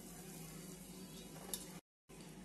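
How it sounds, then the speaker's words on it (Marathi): Noodles are stir-fried in a pan, giving a faint, steady sizzle with soft scraping that drops out for a moment near the end. "नूडल्स टाकून हळूहळू परतूया याला"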